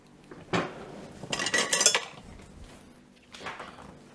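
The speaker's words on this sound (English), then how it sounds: "Let me just grab a strainer." Metal kitchen utensils clatter and clink as a strainer is pulled from among them while making a habanero, carrot and orange hot sauce, in two short bursts with a lighter rattle afterward.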